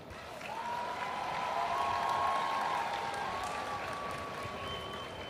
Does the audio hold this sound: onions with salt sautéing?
no